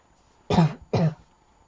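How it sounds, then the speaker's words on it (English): Two short, harsh coughs or throat clears in quick succession, close and loud, with quiet before and after. "I do have a bit of a clammy throat, so I might cough occasionally"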